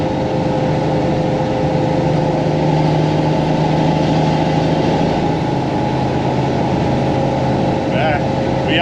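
A loud, steady Mack diesel truck engine, around 1998, idles and rumbles continuously, with a low droning hum throughout and people talking over it.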